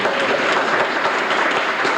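Steady, dense applause fills a television studio audience at a Face à Face show anniversary, a continuous wash of many hands clapping near and loud without pause.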